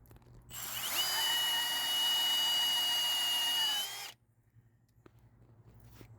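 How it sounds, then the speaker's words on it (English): A power drill spinning a battery terminal cleaner whines loudly at a steady high pitch for about three and a half seconds, then cuts off, leaving near silence. "So let's get this put in the drill."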